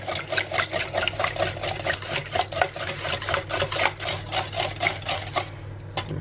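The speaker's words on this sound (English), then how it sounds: "we'll just whisk all those eggs in" A whisk beats six eggs in a bowl for a low-carb coconut flour bread, making a fast, even run of rhythmic clicking strokes against the bowl that is close and continuous and drops away just before the end.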